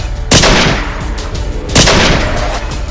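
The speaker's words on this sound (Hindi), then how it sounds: "मैंने गोलियां चला दी," Two loud gunshots about a second and a half apart, each a sharp blast followed by a brief echoing tail.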